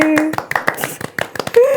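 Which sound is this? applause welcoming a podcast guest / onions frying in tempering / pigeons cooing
applause welcoming a podcast guest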